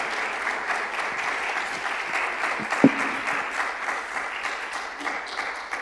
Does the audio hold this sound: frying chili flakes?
no